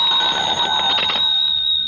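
A telephone in a 1950 radio drama rings with a continuous shrill electric bell that sounds close and loud and stays steady for about two seconds.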